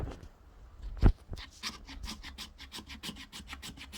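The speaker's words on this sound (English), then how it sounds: "we're going to scrape the wood using the back of the knife" Back of a knife blade scraping along resinous wood to raise fine tinder shavings, a steady run of short rasping strokes close up after one sharp knock, with no voices.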